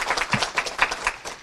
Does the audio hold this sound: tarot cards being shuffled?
no